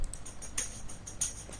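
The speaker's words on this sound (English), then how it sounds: "This is how the tambourine sounds without EQ," A dry, unprocessed tambourine stem from a song mix plays alone, its jingles giving bright, crisp rhythmic hits at a steady pulse with fainter shakes between the accents, fairly quiet and close.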